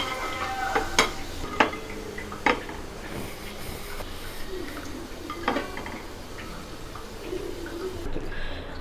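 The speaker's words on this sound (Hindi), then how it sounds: "इसलिए मैं थोड़ा सा ऑयल डाल के दूसरे पैन में फ्राई कर ले रही हूँ" Vegetables frying in a little oil in a pan for Hyderabadi tamarind and vegetable pickle, a steady soft sizzle with occasional sharp clinks of a spoon against the pan.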